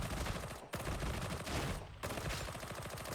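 Shredder Auto Pistol from Warhammer 40K: Darktide, played by a Zealot in a Holy Revenant build, firing a dense rapid stream of close, loud shots that breaks into two short pauses between sustained bursts.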